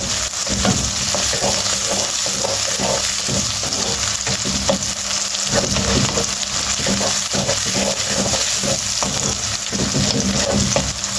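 Onions and cumin fry in a pan for a turnip and pea curry, giving a loud, continuous sizzle heard up close, with frequent stirring scrapes throughout and no talking.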